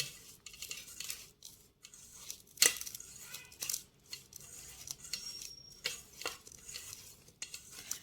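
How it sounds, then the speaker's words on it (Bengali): Flour, black pepper and salt mixed together in a bowl for KFC-style crispy fried chicken, with a spoon stirring and scraping against the bowl in quiet, irregular strokes and one sharper clink, close and alone. "গোলমরিচ গুঁড়ো 1/2 চামচ, আর স্বাদ মতো লবণ দিয়ে ভালো করে ময়দাটা মিশিয়ে নিতে হবে"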